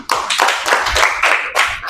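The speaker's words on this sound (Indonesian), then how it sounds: "Oke, tepuk tangan." A school classroom of junior high students claps hands together, a close, loud burst of several rhythmic pulses of group clapping with no voices.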